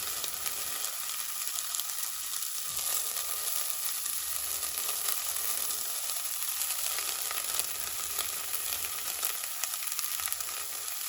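Chopped onions sizzle and fry in a pan, a constant crackling hiss with occasional stirring scrapes and clatters underneath, close and steady throughout.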